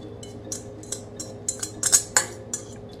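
Crushed tofu dropped and scraped into a bowl with a utensil, giving a series of light clinks and clatters at a steady, unhurried pace, close by, with no talking.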